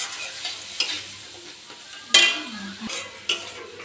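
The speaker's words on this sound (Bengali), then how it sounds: "তারপরে হলুদ, জিরে গুঁড়ো, লঙ্কা গুঁড়ো, এবার একটু করে কষিয়ে নেব।" Turmeric, cumin and chili powder sauté in a hot pan with a soft sizzle, while a spoon scrapes across the metal in a few sharp strokes, one louder clack near the middle.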